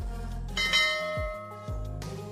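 Bell chime used as a subscribe-reminder notification sound, two ringing strikes with sustained tonal decay, loud and alone with no speech.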